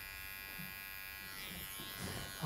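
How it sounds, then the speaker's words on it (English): Electric hair clippers run along the back of a neck in a barber class, giving a steady, close, continuous buzz that shifts slightly in tone as the blade moves over the skin and hair. "my general rule is I'll shave down to the t-shirt line"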